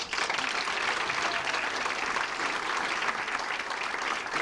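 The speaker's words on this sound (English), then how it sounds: "give them a round of applause" Sustained applause from a music hall audience, dense clapping that fills the room at an even level from start to finish, with no talk over it.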